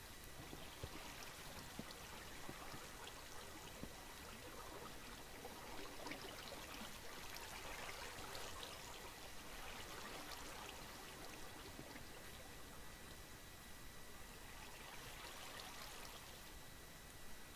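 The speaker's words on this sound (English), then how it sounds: "That water might want to get rid of, right?" Steady rushing of flowing water in the video game Minecraft, an even, continuous hiss and gurgle at moderate loudness with no voices.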